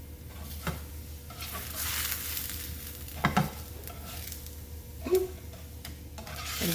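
Keto tortillas frying in a pan, a steady soft sizzle with scattered clatters and taps as they are stirred and tossed, fairly close and with no talking.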